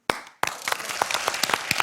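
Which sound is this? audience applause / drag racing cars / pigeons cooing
audience applause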